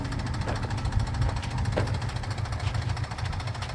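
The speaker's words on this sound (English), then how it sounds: "It sounds like it's running good, but it does have that tapping." A 2011 GMC Terrain engine runs close by with a steady low rumble and a repeated light tapping or ticking from the engine, heard alone without talk.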